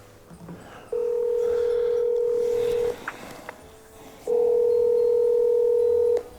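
A phone call rings out before reaching voicemail: two long, steady ringback tones separated by a pause, moderately loud over faint room noise.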